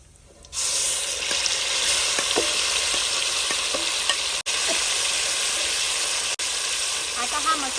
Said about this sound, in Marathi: आपल्याला तेल सुटेपर्यंत चांगल्या प्रकारे परतून घेऊ